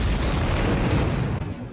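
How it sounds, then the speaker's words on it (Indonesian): A car blowing up after crashing into a truck in an action film: a dense, sustained roaring blast filling the whole clip at steady high loudness, with a brief dip near the end. "Melihat mobilnya akan menabrak truk, Feng kemudian keluar hingga mobil Yusuf meledak."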